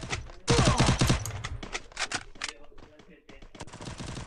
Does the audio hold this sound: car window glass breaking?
no